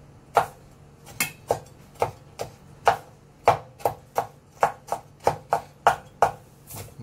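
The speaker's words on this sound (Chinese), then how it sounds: "咁你咧切完之後，然後再剁碎啲。" A knife chops pickled mustard greens, stem and leaf, on a board for Chiu Chow fried rice, with a steady run of about fifteen crisp, close thuds at an even rhythm.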